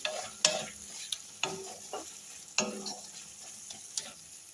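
A spatula stirs curry with sugar in a sizzling pan, giving a few sharp scraping strokes at irregular intervals over a soft frying hiss. It is close, and no one talks.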